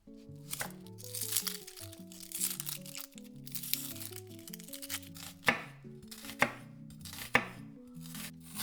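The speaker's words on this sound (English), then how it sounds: "Next, cut 1 red onion." A red onion chopped with a knife on a board, close and crisp, with crunchy slicing strokes and papery crinkles, ending in several distinct sharp chops at a steady pace, no talking.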